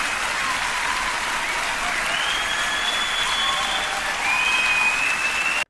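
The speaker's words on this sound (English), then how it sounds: "Just while they're clapping." An audience applauds after a live performance of Dvořák's "Song to the Moon", a dense, steady wash of clapping from a large crowd that holds throughout and swells slightly near the end, with no talking.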